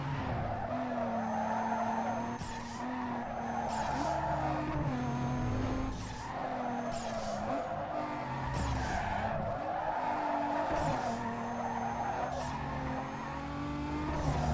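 Game car drifting in Need for Speed Underground 2, with sustained loud tire squeal over a steady engine drone, the screech pitch sliding and dipping repeatedly as the drift chains on.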